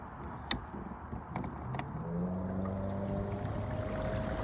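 A small kayak motor, a Newport Vessels NK 300, revs up and drones steadily over water, a low rumbling engine tone rising in pitch, with a few knocks and splashes early on.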